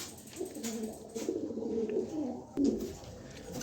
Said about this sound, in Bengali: এখানে এক পেয়ার ফেন্সি কবুতর দিলাম এটার নাম হচ্ছে ক্যাপাচিনো